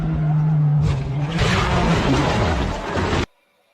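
A rally car's engine drones loudly on a snowy mountain road, then surges into a harsh rush of tire and body noise as it leaves the road among tall pines, cutting off abruptly into silence.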